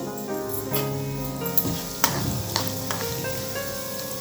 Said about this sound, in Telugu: ఇవి కొంచెం మంచిగా వేగాలన్నమాట